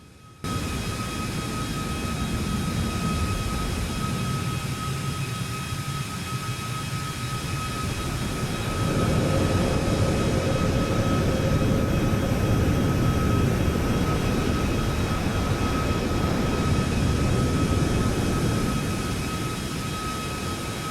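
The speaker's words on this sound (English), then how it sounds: "Flight 610 begins its takeoff roll on runway 25 left" Boeing 737 MAX jet airliner on its takeoff roll down the runway, a loud steady engine roar with tonal whine that swells and intensifies partway through, heard from inside the cabin with no talking.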